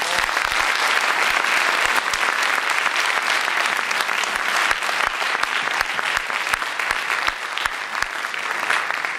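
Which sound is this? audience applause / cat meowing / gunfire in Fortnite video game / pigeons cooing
audience applause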